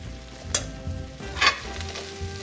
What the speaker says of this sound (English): I'm gonna turn this up really high because I wanna scorch the Brussels sprouts